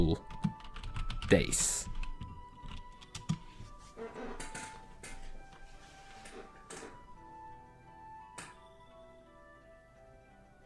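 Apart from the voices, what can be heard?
typing on a computer keyboard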